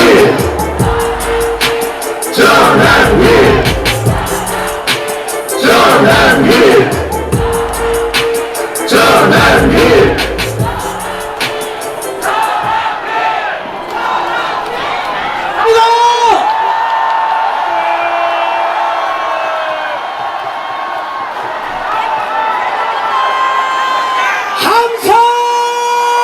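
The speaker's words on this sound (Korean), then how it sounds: "다시 한번 함성!" A large crowd at a Save Korea rally in Daegu roars and cheers in several loud, surging bursts that rise and fade, followed by quieter stretches of amplified voice and background murmur, with one more swell of shouting near the end.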